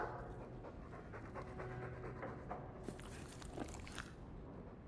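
Mabari war dog in Dragon Age II, quick rhythmic close panting with small wet mouth sounds and faint background ambience, soft and continuous.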